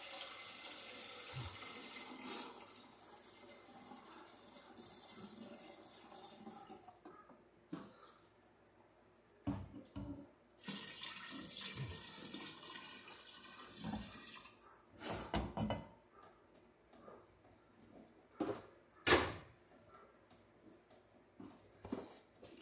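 Tap water running into a container to about 3.5 gallons for homemade watermelon wine, a steady splashing pour with several louder gushes and pauses, close and alone.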